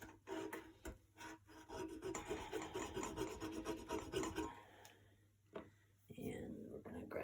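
The flat side of a squeegee drags chalk paste across a stencil on a DIY lantern, making close, rhythmic scraping and rasping strokes for several seconds, with faint quiet speech around them.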